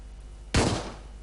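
One sharp, loud gunshot in the video game Hotline Miami 2 cracks out from quiet, then trails off in a short echoing decay.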